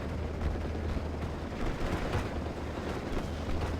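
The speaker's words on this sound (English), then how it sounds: "a large gunfight over here, just the vehicles shooting upon the Fusiliers." Dense, continuous small-arms and vehicle gunfire rumbles through a large battle in a WWII strategy video game, British 6th Airborne against German 352nd Infantry, sustained and loud with no pauses and no talking.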